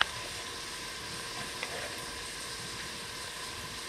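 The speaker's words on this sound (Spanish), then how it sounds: "vamos a agregar las cabecitas del camarón" Shrimp heads frying in a pan of sizzling tomato, onion and garlic, a steady close crackle and hiss with one small pop, no talking.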